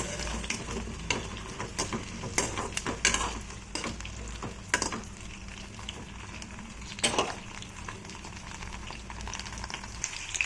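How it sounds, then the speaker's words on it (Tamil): Brinjal pieces sautéing in oil in a pan until golden, a continuous crackling sizzle with frequent sharp spatula scrapes and taps against the metal, close and moderately quiet, no speech. "ரொம்ப குழஞ்சிடக்கூடாது பொன்னிறமாக வர வரைக்கும் வதக்கிக்கலாம்"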